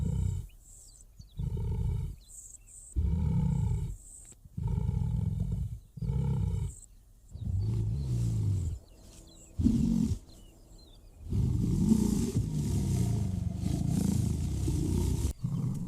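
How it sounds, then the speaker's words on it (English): A lion roaring on the African savanna, a series of deep, rumbling roars in repeated bursts with short pauses, loud and close, building into longer sustained roars toward the end. "The thunder of a primal lion's roar ranks among the most commanding sounds on the African savanna."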